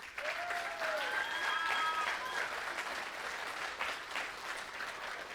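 An audience applauds after a community theater Christmas show, a dense, continuous wash of clapping from a crowd, heard steadily at moderate distance with a brief whistle or voice rising early on.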